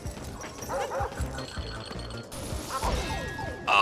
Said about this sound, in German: Er ist eben nur ein Hund an einer Kette. Ein Kettenhund, der beißt.